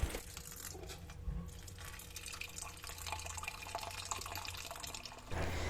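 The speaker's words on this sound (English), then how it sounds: "So now we are getting the rice washed water" Rice-washing water pours steadily, a continuous close liquid splash and trickle lasting several seconds before a brief change near the end, with no voices.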